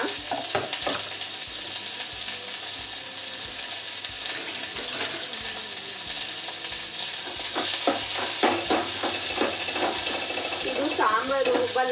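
Onion and garlic fry together in a pan for a village-style holige saaru, with a constant sizzle and frequent stirring clatter. A voice seems to be faintly present under the cooking.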